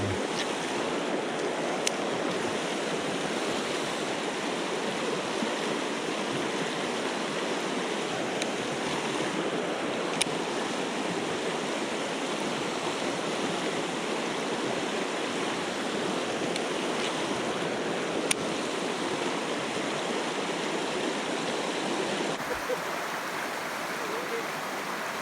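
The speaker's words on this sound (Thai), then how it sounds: "ว่าน้ำไหลครับ" River water rushing over rapids at Kaeng Krachan, a dense continuous roar of flowing water with wind buffeting the microphone, steady and close throughout.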